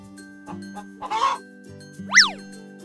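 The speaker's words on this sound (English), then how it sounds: "Hen." A domestic hen clucks a few short, scattered notes, then gives one sharper rising squawk, all set over soft background music.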